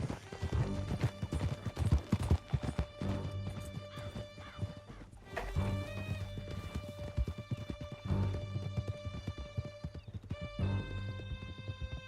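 Horses galloping hard in the video game Red Dead Redemption 2, a fast continuous clatter of hooves over a dense, tense orchestral score, loud and close throughout.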